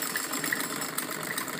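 A sewing machine stitching salwar fabric, double seams down both sides, runs as a steady mid-pitched motor whir with fine rapid ticking, fairly loud and close, continuous without talk.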